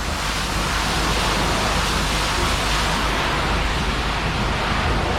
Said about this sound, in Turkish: Evet burada da bizim araba yıkanıyor.